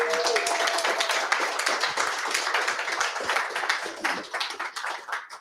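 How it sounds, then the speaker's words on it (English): Applause and clapping from a crowd at a collegiate esports LAN finals event in Dublin, a dense sustained patter of many hands that holds steady for several seconds and then thins out. "Can we get a round of applause?"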